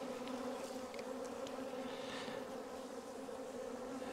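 Honey bees buzz steadily around an open hive during a frame inspection, a continuous soft droning hum with no talking.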